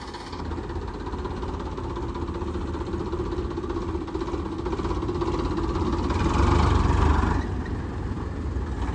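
A well-kept Farmtrac tractor engine runs steadily at a low, even throb, close and continuous, and swells briefly louder toward the end.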